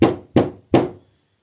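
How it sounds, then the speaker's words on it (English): Three firm knocks on a wall inside a jail, evenly spaced and close, each with a short resonant decay, then silence. "knock on a wall"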